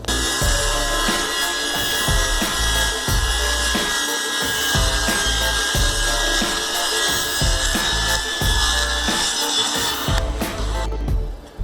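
A saw steadily rips thin plywood into 8-inch strips, giving a continuous dense rasping buzz with short rhythmic dips, loud and close throughout, with no talking.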